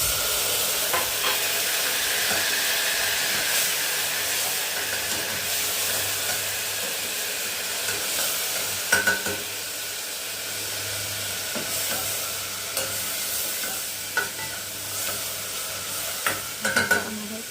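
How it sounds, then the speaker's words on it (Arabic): Vinegar poured into a hot frying pan for Egyptian fatta, sizzling and hissing loudly with steam while a utensil stirs and scrapes at intervals, close and continuous with no talking. "هضيف بقى كده ربع كوبايه من الخل."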